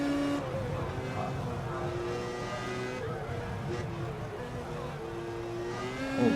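An F1 2015 race car in the rFactor 2 sim game sweeps through the fast 200R corner at Japan's circuit, its engine a steady, close, high-revving whine whose pitch bends slightly through the bend, with no talking.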